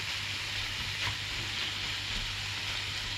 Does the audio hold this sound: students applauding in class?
no